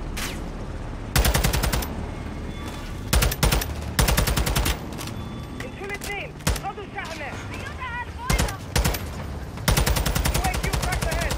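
SCAR rifle fire in the Modern Warfare 2 campaign comes in repeated loud automatic bursts, each a rapid string of sharp shots, separated by short gaps filled with game sounds and voices.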